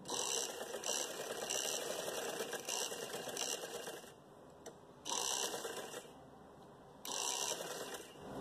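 A sewing machine stitches elastic into trousers, running in steady rapid whirring bursts that pause briefly and restart, fairly close, with no talk over the mechanical chatter.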